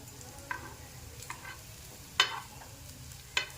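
Coriander vadi shallow-frying in a little oil in a pan, heard as a soft, low sizzle broken by four sharp metallic clicks from a spatula or tongs.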